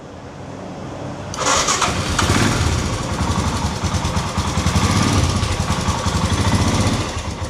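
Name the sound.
Royal Enfield Himalayan 411 motorcycle engine starting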